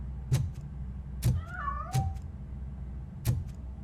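A cat in the RoboCop Rogue City video game meows several times, a series of short, clear calls with one drawn-out wavering meow in the middle, heard alone without talk.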